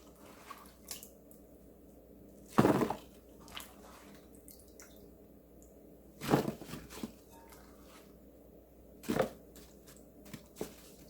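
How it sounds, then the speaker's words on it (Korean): Apple pieces are lifted out of sugar water, giving three quiet, separate wet splashes and drips several seconds apart, with faint small drops between them in a hushed kitchen. "설탕물에 담궈둔 사과를 건져 주세요."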